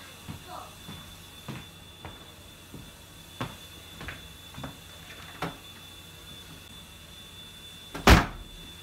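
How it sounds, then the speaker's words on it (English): An apartment door in Los Angeles slams once hard near the end, loud and close, after several faint knocks and shuffles, with a voice talking quietly in the background. "Can you come over here and slam the door for me on camera?"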